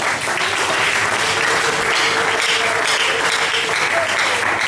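Congregation at a French-speaking church service applauding together to acclaim the Lord, a dense, steady wall of clapping that fills the room and holds loud and even for the whole stretch.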